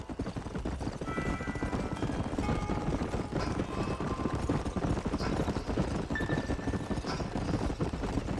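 Horses ridden across open country in the video game Red Dead Redemption, their hooves clip-clopping in a steady busy rhythm with faint game ambience and occasional tonal sounds underneath.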